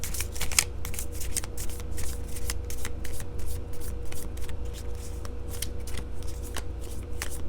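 Tarot cards are shuffled at length, with a continuous close riffling and many sharp snapping flicks as the cards are handled and pulled, over a steady low background hum.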